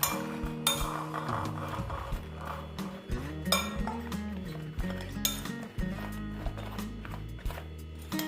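Pointed gourd is mixed with salt in a bowl, with irregular clinks, knocks and clattering contact sounds against a background of steady tonal hum.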